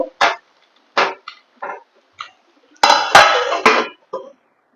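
A metal lid set down on a cooking pot of rice on a gas stove, heard as several sharp clinks and clatters of metal on metal in short bursts, with a longer rattling scrape near the end and no talk.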